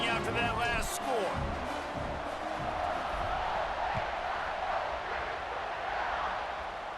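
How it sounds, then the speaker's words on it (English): A stadium crowd buzzes in the College Football 26 video game after a touchdown, a steady, loud roar of cheering that runs throughout with commentary voices over it at the start. "this crowd is buzzing after that last score"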